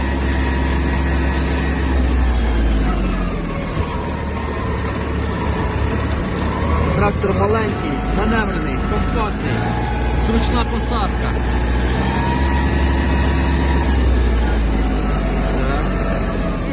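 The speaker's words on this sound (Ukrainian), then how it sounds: "максимальна швидкість трактора" A Japanese Kubota GB-18 mini tractor runs its engine at maximum speed with a loud, steady drone and a hum that barely changes, while someone talks over it.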